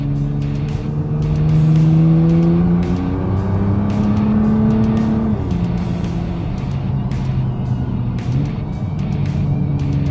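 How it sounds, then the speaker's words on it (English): Hard acceleration in a Nissan GT-R R35: a loud, continuous engine drone rising in pitch through several gears, each shift marked by a short drop, heard close up from the cabin with no talking. "Man, this car accelerates."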